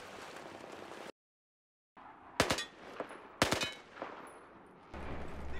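Rapid bursts of UMP-45 submachine gun fire in Battlefield 4, with two sharp, loud volleys cutting through background battle noise after a brief silent gap.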